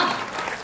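Audience applause at a Hindi comedy poetry gathering (hasya kavi sammelan), a brief steady burst of clapping from a crowd, with no voices over it.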